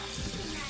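Tap water runs over pork ribs being rinsed, a steady close splashing hiss filling the moment, with no pauses.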